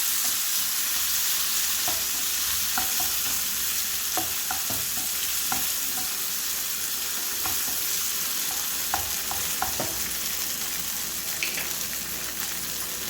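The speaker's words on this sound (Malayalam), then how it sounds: "അതുകൂടി ഇട്ട് കൊടുത്ത് ഒന്ന് വഴറ്റി കൊടുക്കാം." Shallots and a small tomato sauté in a pan for mint chutney, a steady close sizzle running throughout with scattered clicks and scrapes of a stirring spoon, no voices.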